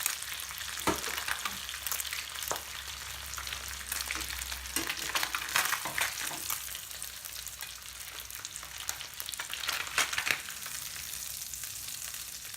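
Fish fillets fry steadily in a hot pan, a continuous bright sizzle with scattered crackles and spits, some pieces floured and the skin crisping, with occasional soft clinks and shifts as the fish is moved.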